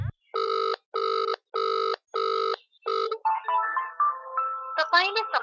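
Telephone ring-back tone on an unanswered call, five evenly spaced loud rings with short gaps between them, followed by a few seconds of clattering, chattering background noise.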